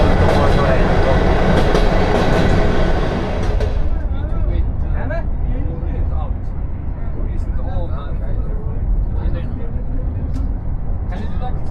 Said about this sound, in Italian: Comunque il treno va molto molto lento.